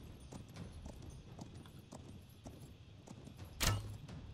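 A horse gallops in a video game, its hooves making quiet, rhythmic clip-clop beats that repeat steadily, with one sharper, louder click near the end.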